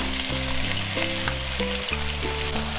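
Beef brisket stir-fried with soy sauce in a pan gives a steady, close sizzle of frying throughout, with sustained tonal music playing underneath.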